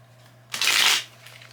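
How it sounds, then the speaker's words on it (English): A deck of cards is shuffled once up close, a brief loud riffling burst that rises and cuts off within half a second, with no talk. "Last little bit of shuffling."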